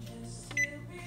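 An oven's control panel gives one short, clear electronic beep while the temperature is being set, heard over a steady low kitchen hum.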